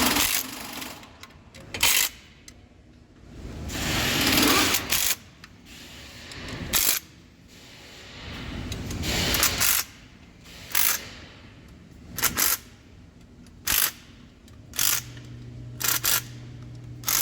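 Clicking ratchet-style bursts from a torque wrench snugging Hyundai oil pan bolts to 7 to 9 foot-pounds, a dozen or so short separate clicks and rasps spaced irregularly, fairly close and alone.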